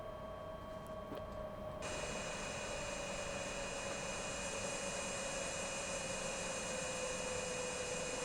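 Engines of an MV-22B Osprey in Microsoft Flight Simulator 2024 whine steadily, with a high tonal hum that shifts partway through as the shutdown proceeds, loud and continuous with no voices.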